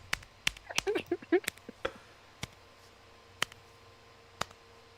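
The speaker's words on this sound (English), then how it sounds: "No, that is a step. You can hear the shuffle." Footstep sounds in a Half-Life video game mod come as a quick cluster of sharp, close clicks and scuffs, then several isolated ticks spaced apart, with faint talk in the background.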